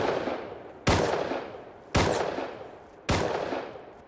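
Three heavy gunshots in Rust, fired about a second apart. Each is a loud, close crack followed by a long echoing tail that fades before the next shot.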